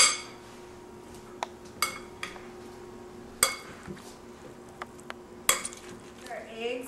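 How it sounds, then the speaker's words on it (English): A chicken salad with chopped eggs being gently stirred in a bowl, giving a few sharp clinks of a utensil on the dish spaced between quiet soft mixing sounds, close by. "So we're just going to kind of slightly stir this up"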